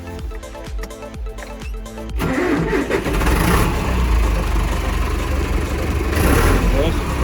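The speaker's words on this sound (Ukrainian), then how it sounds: "Йдемо заводити трактор. Так, заводимо ми нашого джендірика." A tractor engine cranks in short bursts, then catches and runs loud and steady with a low rumble.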